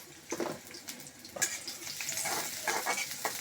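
Chopped onions soften in hot oil in a pan, giving a close crackling sizzle broken by stirring scrapes and brief louder bursts.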